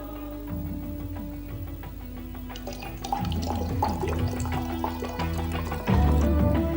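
Water is poured into a vessel with holes in its base, a steady splashing pour that grows louder and fuller toward the end, close by and with no voices.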